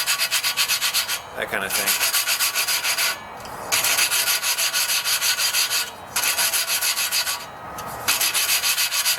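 Rhythmic gritty rubbing of an air compressor valve being lapped into its valve seat, repeated back-and-forth strokes with brief pauses between bursts, close and loud; a voice speaks briefly.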